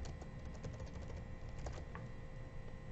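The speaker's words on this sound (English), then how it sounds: "type out another number" Fingers typing out a phone number on a computer keyboard, producing quick, close, uneven clicks and taps over a steady background hum, with no talking.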